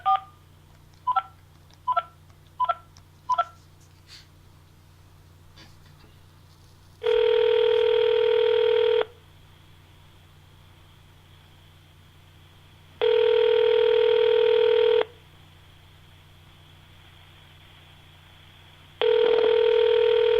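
A telephone dials a call, with five quick touch-tone beeps, then three long ringback tones, each about two seconds, separated by pauses of several seconds over a low steady hum.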